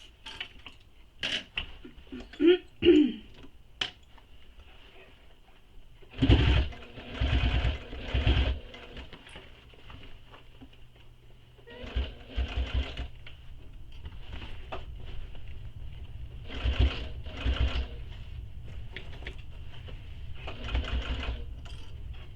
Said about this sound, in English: this panel that I'm currently sewing is the back